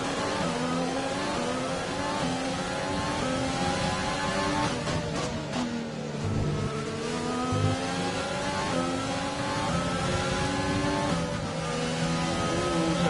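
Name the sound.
Formula 1 race car engine in the video game F1 2020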